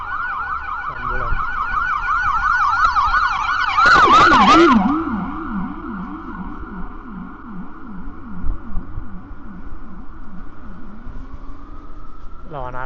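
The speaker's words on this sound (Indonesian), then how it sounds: "Ambulan." An ambulance siren wails through night traffic in a downtown area, cycling loudly and close before sweeping lower in pitch as it passes, with engine and road noise underneath.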